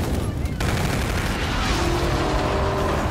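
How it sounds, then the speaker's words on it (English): Aircraft strafing gun run in a video game's Domination match: a dense, loud, continuous burst of rapid gunfire and booming impacts that fills the whole clip without a break. "Roger, inbound for gun run."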